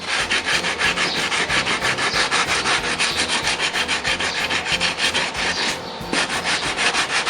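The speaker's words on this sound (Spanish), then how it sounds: "Una vez que tenemos la zona bien limpia, vamos a proceder a lijar." Sandpaper wrapped on a wood block rubs steadily back and forth over a car bumper being prepped for paint, a close, continuous rasping scrape with quick regular strokes and a brief pause near the end.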